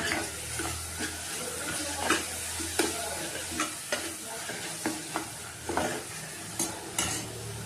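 Yogurt is stirred into a veg biryani masala in a pan, the spoon scraping in regular strokes about once a second over a soft continuous sizzle, close and steady.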